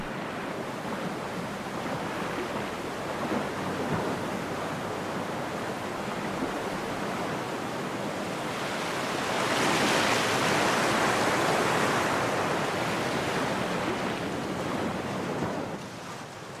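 Torrential flood waters from melting ice make a continuous roaring rush, loud and broad, that surges stronger partway through and then eases near the end, with no voices.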